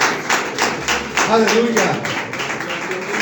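A church congregation claps along in a steady rhythmic beat of hand claps for Jesus Christ, with a voice calling out briefly over the clapping.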